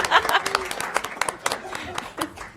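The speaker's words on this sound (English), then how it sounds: "If we can all give Victoria a round of applause for securing that again" A small audience at a school district education alliance board meeting gives scattered, uneven applause, with voices talking over the claps.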